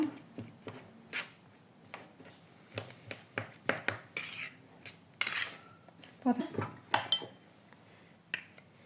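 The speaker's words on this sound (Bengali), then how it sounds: "এই যে এগুলো সব ম্যাশ করে নেওয়ার পরে" Boiled potatoes being mashed for aloo kulcha filling make irregular soft thuds, scrapes and clinks of a utensil against a bowl, coming in uneven bursts at close range.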